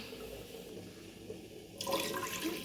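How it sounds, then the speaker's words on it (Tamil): Water pours steadily into a jar of rice, starting as a soft trickle and then turning into a louder rushing splash near the end. "ஒன்றரை கப் தண்ணி ஊற்ற போகிறேன்."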